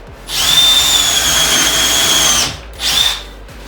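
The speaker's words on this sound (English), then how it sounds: "Make sure the seam is nice and tight, and then do the pre-drills" Power drill boring pre-drill holes into wood for a cheap portable workbench: a loud, close whine running for about two seconds, then a short second burst after a brief pause.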